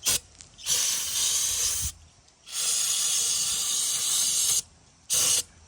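An aerosol spray hisses in several long bursts onto a Vevor Chinese diesel heater, with short pauses between sprays and a quick final pair of bursts, loud and close.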